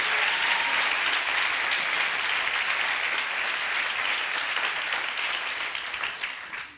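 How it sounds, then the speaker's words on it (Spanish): Sustained applause from a church congregation fills the space, broad and continuous, then thins and fades slightly toward the end. "Aplaude al Rey de Gloria."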